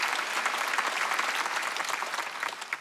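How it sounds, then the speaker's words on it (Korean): A church congregation at a Korean Sunday worship service bursts into applause, dense even clapping from many hands that holds steady and fades slightly at the end. "박수"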